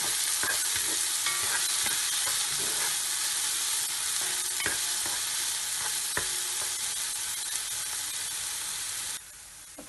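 Onions searing in oil for a meat tajine with prunes, a loud, steady hissing sizzle heard close up with faint scraping, cutting off abruptly near the end.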